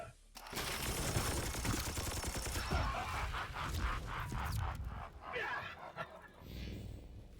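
Rapid gunfire crackles in Warhammer 40,000: Chaos Gate – Daemonhunters, dense bursts of shots filling most of the span, with sharp separate reports near the end.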